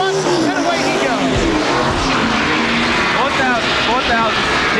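A NASCAR Winston Cup race car skids with squealing tires amid roaring engines at the 1999 Primestar 500, loud and sustained, with an announcer talking over the action throughout.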